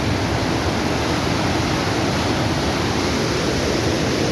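Clear, fast-flowing river water rushing in a steady broadband roar, close and continuous with no voices.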